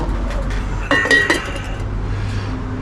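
A glass lid is set onto a glass container of boiling acid solution holding tiny IC chips, making a brief cluster of close, bright clinks over a steady low hum and hiss.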